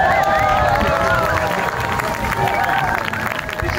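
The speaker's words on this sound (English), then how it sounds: "Big cheer." A crowd at a sea rescue event raises a big cheer, a dense, steady wall of whoops and clapping that holds loud throughout.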